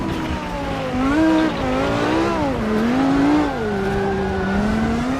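Screaming V10 of Michael Schumacher's 2001 Ferrari Formula 1 car in the AMS2 racing game, a loud continuous engine note rising and falling as it revs through gears and corners, with tire squeal and no talk.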